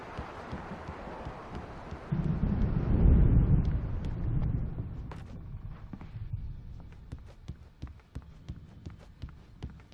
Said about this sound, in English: The storm is almost here.